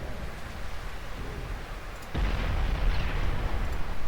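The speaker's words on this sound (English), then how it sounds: "Alright, yeah, torpedo hit on their forward." Torpedo hits exploding against warships in a naval battle game, heard as a low rumbling background that swells into a louder, heavy roar of blasts partway through.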